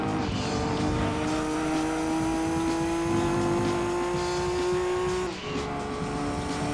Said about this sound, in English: The car's making a weird noise in low revs. Almost sounds like a traction control noise,